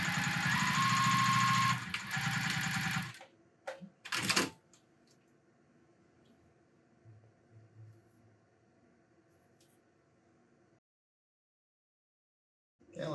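JUKI TL-2010Q sewing machine stitching felt, a loud close mechanical run for about three seconds, then a few sharp clicks and a faint low hum before silence.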